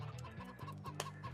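Chickens in the Farming Simulator 25 video game cluck in a quick, repeated rhythm, fairly close and steady, with a few sharper higher calls mixed in.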